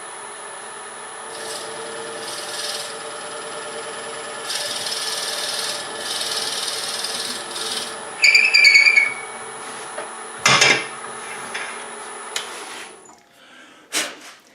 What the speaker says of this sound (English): you just want to drill a hole about 1/8 of an inch deep